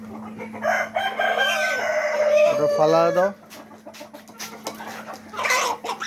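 Tiger-breed chickens in a poultry shed with fresh litter cluck busily, with one loud drawn-out crow, over a steady low hum; people talk nearby.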